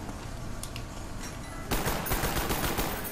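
Rapid gunfire in Black Ops 1 Zombies, starting after a quieter stretch and then rattling in a loud, dense automatic burst through the second half.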